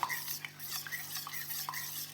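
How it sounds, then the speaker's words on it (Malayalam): Batter for a banana dish being stirred smooth in a bowl, soft scraping and light clinks of a spoon against the vessel, quiet and close, with no talk. "ഇതാ ഇങ്ങനെ നല്ല വൃത്തിയിൽ നമുക്ക് കലക്കിയെടുക്കണം കണ്ടല്ലോ കട്ടയൊന്നുമില്ലാണ്ട് കലക്കിയെടുക്കുക"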